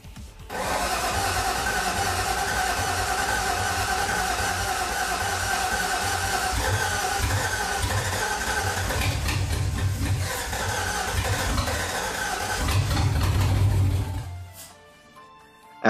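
BMW E36 M3 with a swapped V8 running on Megasquirt, loud and close, rumbling steadily for about fourteen seconds with a brief surge near the end before cutting off abruptly.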